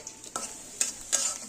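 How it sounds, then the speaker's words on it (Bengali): Spices and turmeric stir-fried in fried onions for a beef curry with ridge gourd, three quick spatula scrapes over a soft sizzle, close and without speech. "এই দেখুন আমার আম্মু মশলা ভুনছে ভালোভাবে।"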